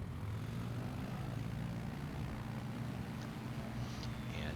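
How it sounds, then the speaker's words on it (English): A Savage Carbon tailwheel airplane lands in Microsoft Flight Simulator 2020, its propeller engine a faint, steady, unbroken drone with no talk over it. "Now let's watch it on a tailwheel airplane with our Savage Carbon here."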